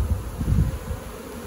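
A dense, steady buzzing drone of a swarm of bees fills the air, continuous and close, with a rumbling low hum underneath.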